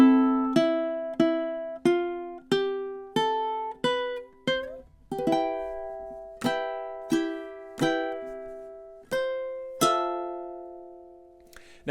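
Plucked ukulele strokes of a song ring out one after another in a steady rhythm, each chord decaying before the next, with a quick run partway through; no talking.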